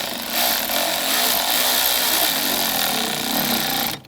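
Power-tool whir from work on the front engine mount of a 2013-2016 Dodge Dart, likely a driver tightening a worm clamp: a loud, steady, continuous buzzing run close up, lasting nearly the whole stretch before stopping abruptly.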